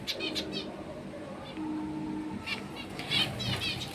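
Pet birds flap their wings in fright, giving several sudden bursts of fluttering close by, scattered unevenly against a low steady background hum.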